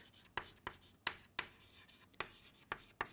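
Short, crisp pen strokes while triangle properties are written out for a trigonometry lesson, about eight separate scratching marks in an uneven rhythm, close and quiet, with no speech.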